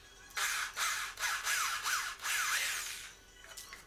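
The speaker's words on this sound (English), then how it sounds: "I'm drilling two holes for each side" Several bursts of a drill boring holes into a wooden board, loud and close, each a second or so long with brief pauses between, ending with a softer trailing rub.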